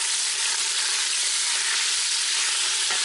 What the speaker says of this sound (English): get this steak searing up. It's on high on the saute